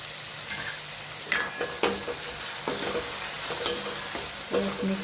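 A spoon stirring spices into a tomato mixture cooking in a pan, with a steady soft sizzle of frying under several sharp scrapes and clinks of the utensil against the pan, close and clear, no talking.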